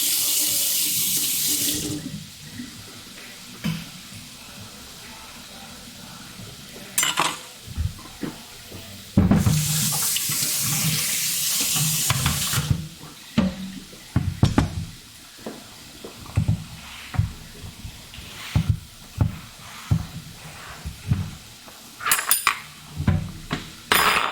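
A cooking pan rinsed under a running kitchen tap, with bursts of gushing water, clanks of metal against the sink, and scraping and wiping sounds between pours, all close with no talking.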